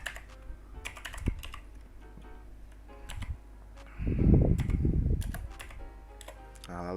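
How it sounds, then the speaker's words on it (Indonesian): Close, clacky typing of an IP address on a computer keyboard, with scattered key taps followed by a denser flurry of keystrokes midway and a few final presses. "di sini ketikkan IP masternya."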